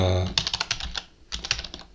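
Fast typing on a computer keyboard, close by: a quick run of crisp key clicks, a short pause, then a second burst of taps, with an enter press among them.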